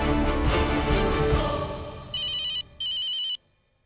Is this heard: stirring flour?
no